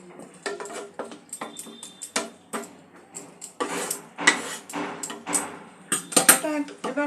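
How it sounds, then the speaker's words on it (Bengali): Sweet and sour chicken being scraped from a pan into a serving dish, a series of sharp metallic clinks and knocks from a spoon against cookware, irregular and close, with brief bursts of scraping. "এটা এবার আমি পাত্রে ঢেলে নেব।"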